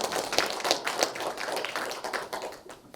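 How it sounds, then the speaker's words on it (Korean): An audience claps at a poetry literature festival, a short burst of brisk, fairly close claps that thins out toward the end. "큰 박수 다시 한번 부탁드립니다."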